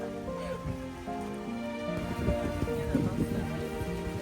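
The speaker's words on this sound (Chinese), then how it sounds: "但下暴雨了" A heavy rainstorm pours down steadily in windy weather, a dense wash of rain close by with scattered louder patters and splashes throughout.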